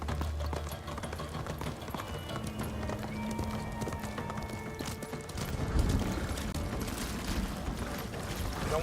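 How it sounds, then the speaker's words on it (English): A stolen Mongol horse in Ghost of Tsushima moves with rapid, steady clip-clopping hoofbeats, mixed with clicking tack and mechanical rattles, close and continuous, with a brief whinny. "I'm stealing this Mongol's horse."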